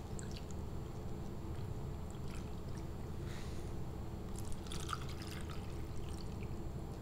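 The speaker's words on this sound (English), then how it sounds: "Next, pour in your 1 times running buffer." TBE running buffer is poured into the reservoirs of a gel electrophoresis tank, a soft, continuous liquid pour with faint splashes and drips, quiet and close.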